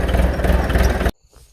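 A tractor engine runs close by with a loud, rhythmic chugging, then stops abruptly, leaving faint background sound.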